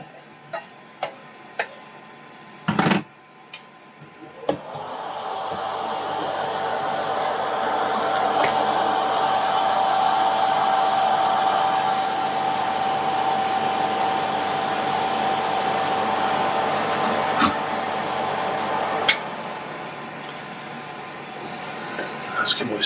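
A solder fume extractor fan whirs steadily during radio board restoration work, a broad even hum starting after a few clicks and knocks and running for several seconds.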